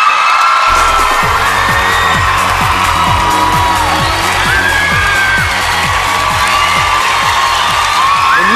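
A large studio audience at an American Idol Season 9 Top 3 show cheers, whoops and applauds after a singing performance, loud and sustained crowd noise with shrill shouts rising above it throughout.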